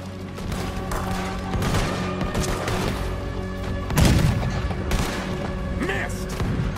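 A ship's cannon fires at a boat in Red Dead Redemption 2, one heavy boom landing near the middle amid a busy din of gunfire and battle noise, with voices talking over it.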